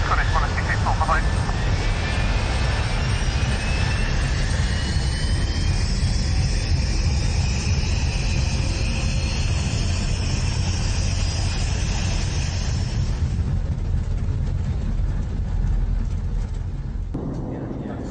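Airliner on runway 23 left taking off, a loud, steady broadband engine roar with rising whine tones that fills the whole stretch, while a radio voice speaks over it, then fades slightly at the end.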